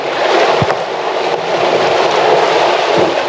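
An off-road vehicle, a Jeep Gladiator, pushes through water bumper-deep with a continuous rushing, splashing wash, a few low thumps underneath, no voices.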